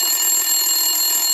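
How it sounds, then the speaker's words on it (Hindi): A telephone ringing sound effect plays for a moment: a loud, steady, high-pitched electronic ring that sustains continuously without a break, with no voices. "बहुत देर तक घंटी बजती रही।"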